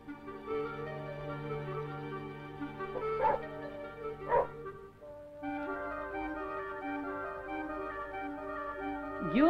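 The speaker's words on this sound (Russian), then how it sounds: "Много специальностей у служебных собак." Service dogs trained to sniff out ore such as pyrite bark and whine in a sequence of nearby yips and tonal whimpers, with two sharper barks standing out and a high whine at the end.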